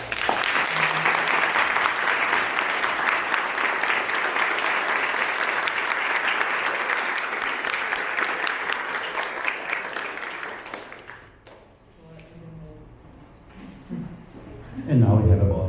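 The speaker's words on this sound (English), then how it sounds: "with a very nice round of applause for" Dense, loud applause from a lecture audience fills the room for about eleven seconds, then fades to scattered claps and low murmuring.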